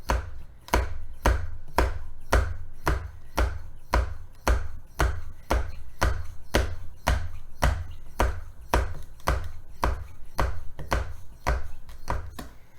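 A Pampered Chef kitchen oil spritzer filled with olive oil is pumped in a steady, even rhythm, about twenty sharp clicking strokes roughly every half second, close up and with no talk.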